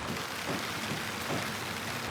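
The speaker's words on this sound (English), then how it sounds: "So rain has stopped play" Steady rain falls at a house under renovation in Yorkshire, a dense even hiss of drops hitting surfaces that holds unbroken throughout, close and fairly loud, with no voices.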